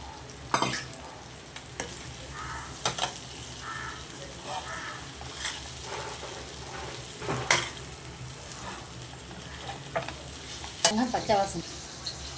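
Coriander powder fries in a pan of fish curry masala with a steady low sizzle, broken by repeated scraping clacks of a spoon stirring it, close and moderately loud.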